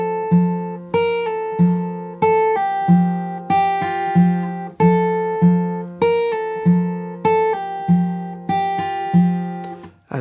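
Acoustic guitar slowly strums the verse chords of a song, about ten evenly spaced ringing strums, each decaying before the next, close and clear with no talking.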